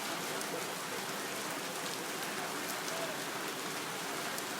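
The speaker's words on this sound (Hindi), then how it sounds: "बारिश बहुत ही मुसलसल तेज़ होती जा रही है दोस्तों, बहुत ही तेज़" Heavy rain pours down on a Lahore street in the evening, a dense, even hiss of falling water that stays steady throughout with no break.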